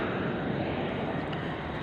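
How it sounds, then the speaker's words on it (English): Airplane flying overhead, a steady broad droning engine roar heard from outside, moderately loud and even throughout with no talk. "But the plane is going over as I say that."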